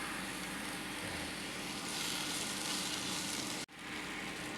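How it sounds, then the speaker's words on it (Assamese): Chopped tomatoes and ground mustard seeds fry in a pan for a drumstick curry, a steady, even sizzle up close with a brief break near the end and no talking. "আৰু এনেদৰে 1 মিনিটমান সময় মই ভাজি ল'ম।"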